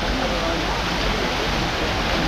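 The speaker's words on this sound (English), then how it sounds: "Waterfall I wasn't able to get before." A waterfall in Catania, Sicily, gives off a dense, constant roar of falling water, loud and close, filling the short stretch without any break or change.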